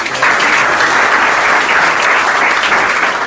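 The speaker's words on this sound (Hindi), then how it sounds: "जोरदार से ताली" Loud, steady applause from an audience at a stage ceremony in Beawar, welcoming a guest to the dais, a dense wash of clapping lasting the whole stretch with no talk over it.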